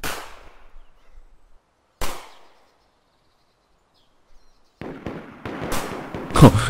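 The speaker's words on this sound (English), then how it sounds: "Oh, there are actually some real gunshots." Gunfire in the survival game DayZ: two isolated sharp reports a couple of seconds apart, then a cluster of rapid, sharper shots after a quiet gap, all fairly quiet and heard alone.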